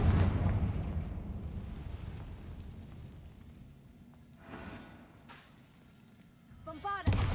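A Confringo fire spell blasts in Hogwarts Legacy with a loud, booming burst at the start that rolls off into a low rumble, followed by a couple of fainter crackling bursts near the end.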